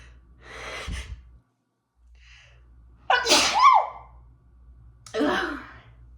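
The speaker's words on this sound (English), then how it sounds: "hold on, I need to sneeze" A sharp, close sneeze bursts out after a couple of quick breathy inhales, followed by a softer exhale.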